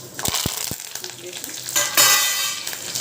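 Loud sizzling and crackling of red chilli and spices frying in hot oil, with a few sharp clinks of a spoon early on and the sizzle swelling toward the end.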